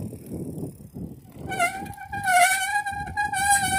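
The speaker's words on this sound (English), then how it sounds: "Oh, my brakes sound bad" Worn vehicle brakes squeal loudly, a high, sustained, tonal screech that starts partway through and wavers over a low rolling rumble.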